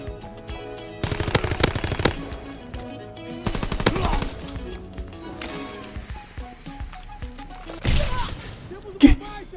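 Gunfire from the Call of Duty video game, with rapid automatic bursts, single shots and a sharp headshot hit sound near the end, mixed with game effects and occasional voices.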